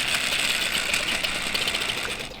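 A line spooling tool winds fishing line onto a reel with a continuous, close-up mechanical whirring hum that slows slightly toward the end.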